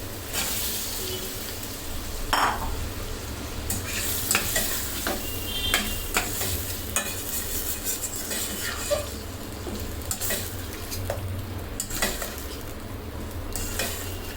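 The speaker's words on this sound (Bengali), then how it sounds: "এখানে আমি সেই ধুয়ে রাখা কলিজিগুলো দিয়ে দেবো" Liver pieces tumble into a pan of frying onion, garlic and spices for a masala liver bhuna, bringing steady close sizzling with scraping stirs and clinks of a utensil against the pot throughout, no voices.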